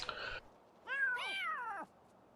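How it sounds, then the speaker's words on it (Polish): Cats fight in The Sims 3: a short sharp yowl, a brief pause, then a longer, rising and falling meowing cry, close and fairly loud against a quiet background. "Tam się jakieś koty biją"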